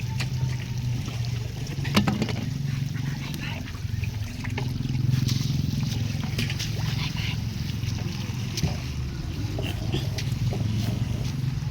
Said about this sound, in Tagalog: Napakabilis kasi malakas po mga ka-farmers ang agos ng tubig.